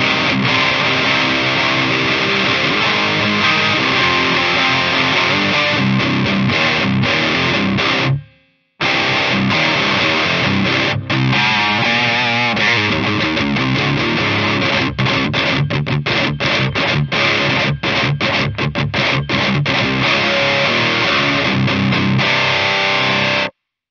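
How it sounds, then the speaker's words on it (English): Heavily distorted electric guitar played through a distortion patch on a NUX MG30 multi-effects unit, a dense sustained riff that runs loud and continuous, breaking off briefly near the middle before resuming. "find a really cool kind of distortion tone with it"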